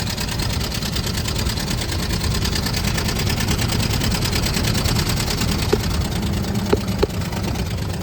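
A 1921 Ford Model T pickup, custom built from a sedan, runs with a loud, steady, rapid mechanical clatter close by, its even beat holding throughout with a few brief knocks near the end.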